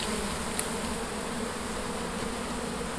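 Honeybees at the SGGW university apiary in Poland hum in a steady, dense buzz from a swarm close by, continuous and even for several seconds with no talk.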